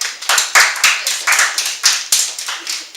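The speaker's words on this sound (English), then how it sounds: "Give her a round of applause." A small audience claps after a classroom presentation, giving a speaker a round of applause: a close, steady patter of individual hand claps with uneven rhythm lasting the whole three seconds.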